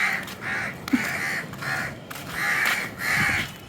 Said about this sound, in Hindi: तो कौवा ववा है यार यहाँ पे,